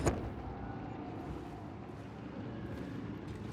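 A single gunshot from hip fire in the video game Hunt: Showdown, loud and booming at the very start, followed by a sustained low rumbling ambience.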